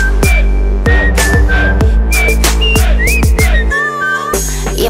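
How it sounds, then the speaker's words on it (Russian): Melodic whistling carries a tune through a Russian pop song, the whistled line riding clearly over a steady beat and backing music, loud and close throughout. "Стоп, мальчик, хватит свистеть"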